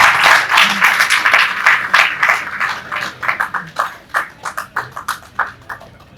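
Audience applause at a journalism school gathering, starting as dense clapping and thinning into slower, separate claps that trail off toward the end.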